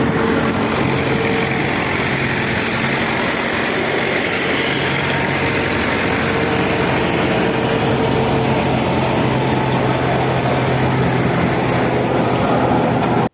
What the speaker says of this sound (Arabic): الجرار ده اللي هو المكنة او البابور اللي شغال، اللي هو مشغل المكنة اللي بتاخد القش ديت والسير